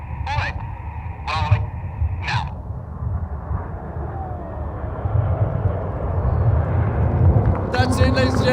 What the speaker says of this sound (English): Each aircraft will do a synchronized roll down the line.